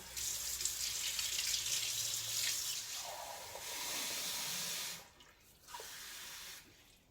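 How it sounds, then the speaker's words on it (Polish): Warm water pours steadily into a bowl for sourdough bread dough, a soft continuous splashing hiss that briefly changes tone, stops, then resumes faintly near the end. "półtorej szklanki ciepłej wody"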